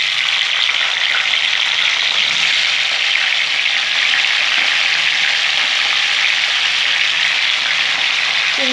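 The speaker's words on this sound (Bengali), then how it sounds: "শিমগুলো একটু ভেজে নেবো।" Flat beans frying in hot spiced oil in a pan, a steady, dense sizzle holding close and even throughout with no talk.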